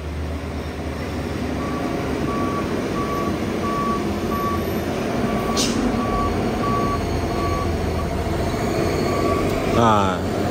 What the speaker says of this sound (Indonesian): Nah, ini habis truk ini nanti yang kuning turun nih.